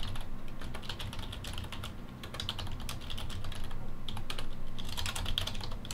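Fast, continuous clatter of computer keyboard keys while playing Minecraft, with dense irregular keystrokes and brief pauses, close and fairly loud, with no talking.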